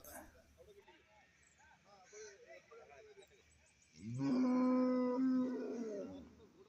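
After some quiet talking at a cattle market, a bull lets out one loud, long, drawn-out low close by, with a faint murmur of people around.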